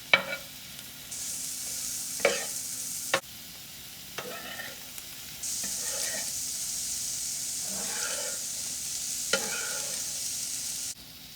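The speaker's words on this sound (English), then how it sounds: "Now this Spam is going to get a really nice brown coloring on it." Spam and vegetables sizzle and stir-fry in a pan, with a steady hiss and several scraping stir strokes recurring every couple of seconds, heard close and without talk.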